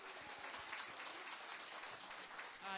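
Faint, steady clapping from an audience continues throughout, distant and even, with no clear voices over it.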